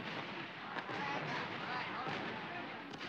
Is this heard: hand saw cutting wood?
no